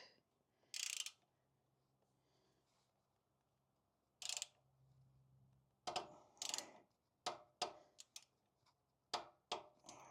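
A ratchet clicks in short bursts while the drain plug of a chainsaw is tightened to torque, with several sharp, close ratcheting strokes after a few scattered clicks, over a faint low background hum.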